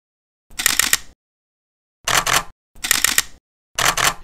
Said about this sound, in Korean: 미러리스를 처음 딱 쓰고 셔터를 누르는 순간 이 약간 소리가 좀 약간 찰지지가 않는 그런 느낌?